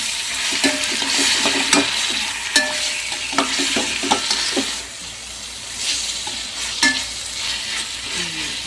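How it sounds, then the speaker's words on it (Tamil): Tomatoes are stirred into masala frying in a pot for chicken biryani: a constant loud hiss of sizzling oil with repeated scraping strokes of a spoon against the pan and brief metallic taps. "டொமேட்டோ ஆட் பண்ணி மிக்ஸ் பண்ணி விட்டுடலாம்."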